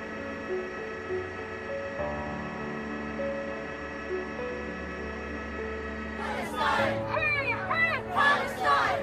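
Crowd of more than 1,000 protesters marching for Gaza, carrying signs and waving flags; steady tonal music runs through most of it before a burst of loud crowd chanting and shouting rises near the end.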